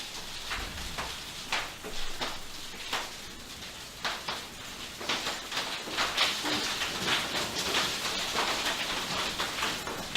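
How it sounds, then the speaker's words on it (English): Big hail falling outside a garage, a dense patter of hard impacts with irregular louder cracks scattered throughout, steady and moderately loud with no one speaking. "There's hail coming into the garage."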